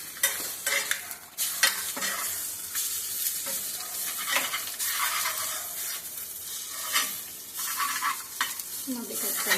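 An omelette frying in a hot cast iron pan gives a steady close sizzle, broken by scraping and stirring clatter from a utensil against the metal, with no talk.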